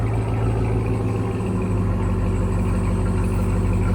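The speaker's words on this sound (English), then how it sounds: "Really nice idle. Here's idle on it." A 700hp RAM TRX pickup truck idles steadily, a low, even engine rumble and deep continuous hum with a faint mechanical drone and no voices.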